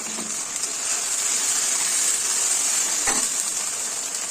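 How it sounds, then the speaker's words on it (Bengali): Water from a rinsed spice bowl hits a hot frying pan of oil while cooking a Bengali fish curry, producing a loud, continuous sizzle and hiss with a brief stir partway through. "আমি মশলার বাটিটা ধুয়ে জলটা দিয়ে দিলাম।"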